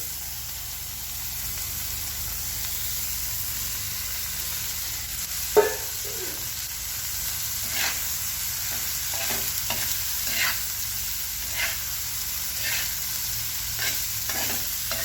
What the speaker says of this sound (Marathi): आता हे सर्व साहित्य चांगलं परतून झाले की टाकणार आहे आपण भाजून घेतलेली भेंडी